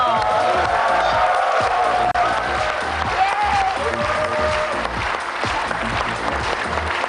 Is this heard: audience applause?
yes